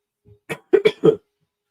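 A few short coughs in quick succession, close to the mic, preceded by a faint throat sound, with no talking.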